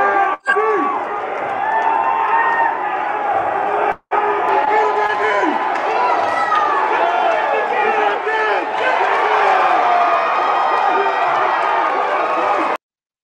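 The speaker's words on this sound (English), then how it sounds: "Boy, that crowd was loud for you, bro." A loud fight crowd roars and cheers continuously as a bout is finished. The noise is dense, with shouts and whoops layered throughout, and is cut by a couple of brief dropouts.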